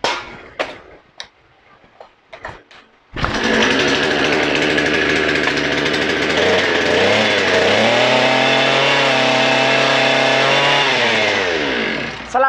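Gas-powered earth auger fitted with a 100mm drill bit, preceded by a few sharp clicks and pull-start tugs before the two-stroke engine catches and runs loud and steady, revving up and down, then winding down near the end.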